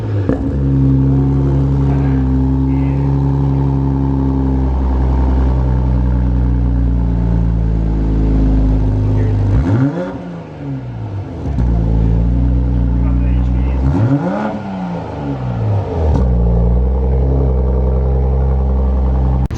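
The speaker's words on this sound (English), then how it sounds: "Even though the exhaust sounds good revving it" A 2020 Toyota Supra with an HKS aftermarket exhaust in sport mode gives a deep exhaust rumble that rises and falls as it is revved twice in sharp swells, loud and close, with a voice briefly audible.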